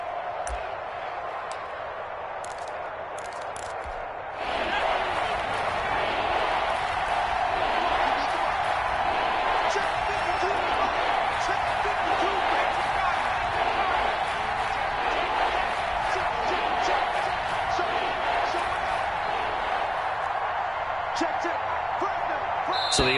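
Stadium crowd roaring at an Eagles vs Giants NFL football game, a steady dense wall of noise that swells louder after a few seconds and holds, with a broadcast commentator's voice running over it.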